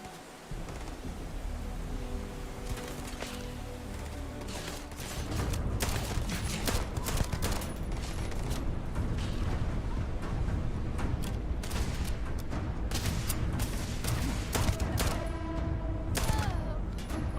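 Weapon gunfire in the Starfield video game, sharp repeated shots and bursts over a rumbling, droning background that swells partway through, steady and fairly loud.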